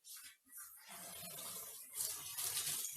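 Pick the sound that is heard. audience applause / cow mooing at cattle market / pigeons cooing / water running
water running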